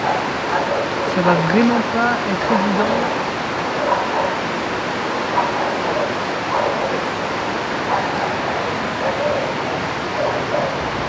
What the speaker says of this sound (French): avec les chiens qui aboient.